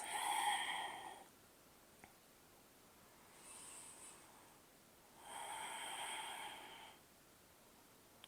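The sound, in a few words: deep breathing during a yoga session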